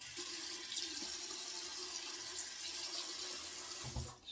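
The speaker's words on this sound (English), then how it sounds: "so I'm just adding water on top of the puck" Tap water runs in a steady stream onto a Mystic Water Bay Rum shave soap puck, a continuous close splashing trickle that fades out near the end.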